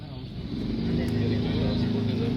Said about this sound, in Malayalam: മറ്റേ ബോട്ട് നീങ്ങുന്നതിൻ്റെ ഒരു സൗണ്ടാണ്